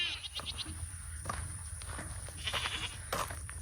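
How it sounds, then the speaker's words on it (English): A male billy goat that has escaped from its pen on a ranch bleats several times in short calls over continuous outdoor background noise. "Our male goat Snickers, our Billy goat, he has found a hole in the pen"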